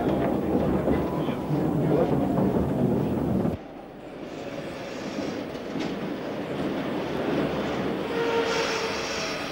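London Underground tank locomotive L46 runs at Edgware Road while working a special, giving a continuous rolling rail rumble that shifts abruptly partway through and carries on as a steady, fairly loud wash.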